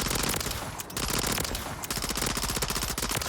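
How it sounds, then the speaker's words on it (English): A PDSW submachine gun fires in Modern Warfare 3, a dense, continuous stream of rapid shots filling the whole stretch, loud and close with no voices. "And the PDSW is a really nice SMG."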